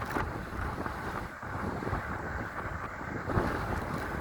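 Strong wind rushes steadily past the microphone while riding a 5000-watt e-bicycle at dusk, a dense, fairly quiet continuous roar with small gusts and no voices.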